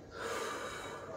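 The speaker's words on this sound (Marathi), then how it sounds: "आणि ते श्वास सोडत." A steady breathy exhale during a yoga breathing exercise aimed at belly fat, a soft continuous airy rush lasting about a second, close and moderately quiet with no talk.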